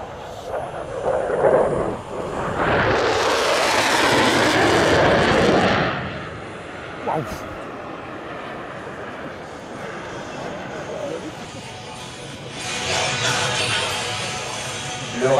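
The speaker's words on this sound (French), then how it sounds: "le Rafale sur le display va revenir sur votre gauche à présent pour son passage à vitesse" A Dassault Rafale fighter jet makes a high-speed pass at the Melun Air Legend 2023 air show. Its engine roar swells and fades over a few seconds and then rumbles off into the distance while a French announcer talks over it.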